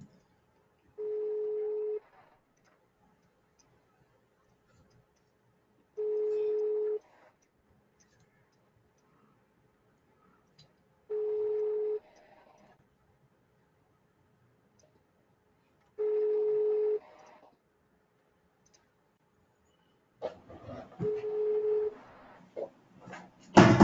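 An unanswered telephone call rings out as evenly spaced ringback tones: four identical beeps about five seconds apart over near-silence, followed by faint clatter and handling noise.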